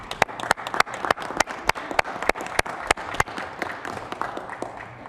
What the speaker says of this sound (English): Council, we ought to give this staff a round of applause.